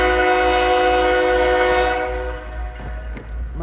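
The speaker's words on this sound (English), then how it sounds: "Oh no, I think we're gonna have a train, guys." A train horn blares in a long, loud sustained chord, then cuts off, leaving a passing train rumbling and clattering nearby.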